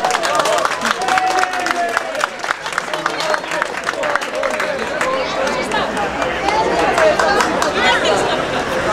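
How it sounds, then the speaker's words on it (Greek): Crowd applause at a live gig at the Sin City venue opening in Alexandreia, dense clapping mixed with chatter and cheering voices, loud and continuous throughout. "Χειροκρότημα, ρε!"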